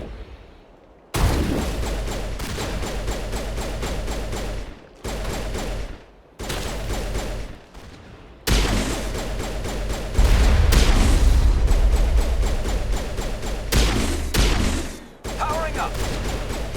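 Heavy crossfire in the Mass Effect Legendary Edition Virmire battle, with Geth forces and long-range turrets: loud, dense bursts of gunfire and booming blasts that come in waves with short gaps, nearly continuous toward the end.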